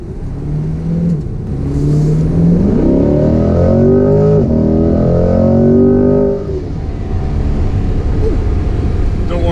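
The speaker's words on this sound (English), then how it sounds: "But get a quick pull here." A Chevrolet C8 Corvette, a 2020 Z51 coupe warmed up beforehand, accelerates hard from close by, its engine note climbing steadily through the gears as a loud, rising roar before easing off near the end.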